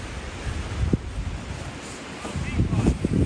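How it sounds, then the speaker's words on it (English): Strong wind buffets a mountain top in winter, roaring and rumbling close against the microphone with gusty surges and a few faint thumps. "Much too windy to want to camp up here."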